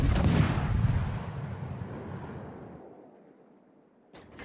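A single heavy high-caliber naval gun blast from a World of Warships battle, loud and booming, with a long rumbling decay that fades over several seconds before a brief new noise at the end.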